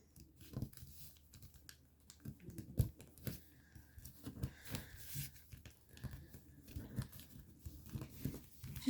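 Paper being squash folded by hand while shaping an origami fighter jet: soft, irregular crinkles, taps and rustles come in quick bursts and near, fairly faint, with no talk.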